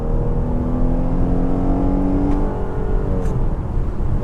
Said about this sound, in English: I'm just gonna give it just a little tiny bit of torque up to about 1100 RPM and go.